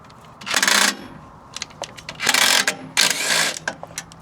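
Side bolts come out of a Grenadier seat with several loud bursts of rapid ratcheting or power-driver whirring. The bursts are separated by short pauses with clicks and metallic clinks, all close up.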